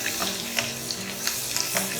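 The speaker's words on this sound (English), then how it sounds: "Once the cumin splutters, we'll add the green chilies, garlic and ginger. We cook them until the raw smell disappears." Green chillies, garlic and ginger frying in oil after cumin tempering, a continuous close sizzle with small spattering crackles throughout.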